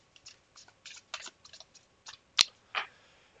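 Quiet, irregular crisp flicks and riffles of a tarot deck being shuffled, one sharper snap near the end, close by with no talking.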